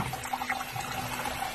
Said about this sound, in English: You see water coming in through the bottom of the basin.